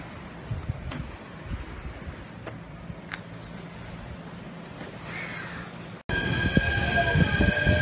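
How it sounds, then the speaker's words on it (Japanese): Train rumbling along the rails with crows cawing nearby, then a louder, brighter rush of rolling wheels and screeching metal as it slows. "そろそろ大海川駅に到着するようです"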